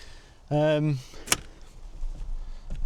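Inside a Rover Metro, a newly fitted ignition barrel steering lock is tested: a short buzzing, tonal whine lasts about half a second, followed by a sharp metallic click, then quiet cabin rumble and a faint later tap.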